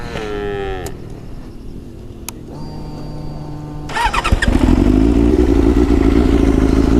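A Benelli 600i motorcycle starts up near the end and settles into a loud, deep, steady exhaust rumble, after a quieter stretch with scattered mechanical clicks and a tonal moo-like sound at the start.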